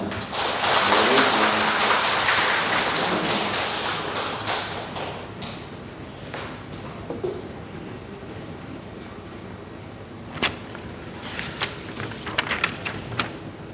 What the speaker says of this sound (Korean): 축하의 박수로 환영을 합니다